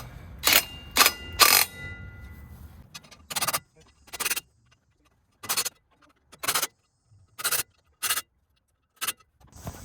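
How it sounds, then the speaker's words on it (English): Ratcheting clicks from a wrench snugging bolts on a Bendix AD9 air dryer on a cabover truck come in short, evenly spaced bursts, close and crisp against near silence, with some brief muffled talk early on. "put a wrench on them just so I can feel how tight they're getting"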